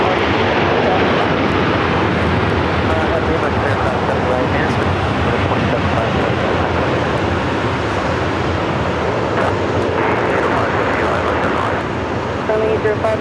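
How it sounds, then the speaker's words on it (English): An Air France airliner takes off from the north side at LAX in rough weather, a loud continuous engine roar with wind-like rushing noise, heard from a distance throughout. "That's Air France taking off there on the north side."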